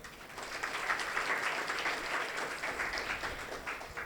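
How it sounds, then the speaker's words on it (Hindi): An audience at a spiritual talk in Amroli, Surat claps together, a moderately loud, steady burst of applause that swells briefly and holds for about four seconds. "पहले तालियां बजाइए।"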